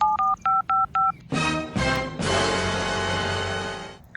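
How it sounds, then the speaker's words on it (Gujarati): A telephone number is dialed: four evenly spaced keypad tones beep in quick succession, then a louder stretch of line noise and connection sounds follows. "હવે દીપકને ફોન કરીને ચારડા રોપવા બોલે"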